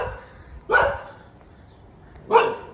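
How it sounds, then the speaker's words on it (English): A dog barks twice, loud and close, with a pause between the two sharp barks over a quiet background. "He likes to bark sometimes."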